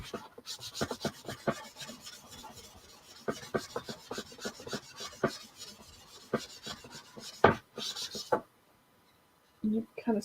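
Wax is rubbed and buffed into a scrap wood sign with quick, repeated rasping strokes in an irregular rhythm, close and fairly soft, stopping near the end with a brief pause before faint handling resumes.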